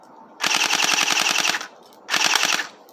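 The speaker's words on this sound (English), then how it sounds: "And on full auto, this is its fire rate." An inexpensive airsoft AK-47 fires on full auto in two bursts, a longer rapid rattle of about a second followed by a shorter one, loud and close with no talking.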